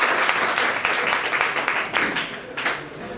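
Audience applause at a community awareness programme on welfare schemes, a dense burst of many hands clapping steadily throughout, loud and close, with some voices mixed in.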